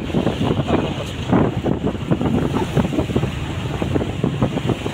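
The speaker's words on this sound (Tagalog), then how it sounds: "Sa pangasimoy na hangin dito," Wind blowing outdoors near open water, buffeting the microphone with loud, gusty rumbles and a constant wash of rushing air throughout.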